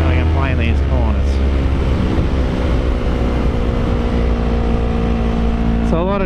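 A Yamaha R3 motorcycle ridden through a series of corners, its engine droning and shifting pitch continuously under loud wind rush, with faint speech mixed in.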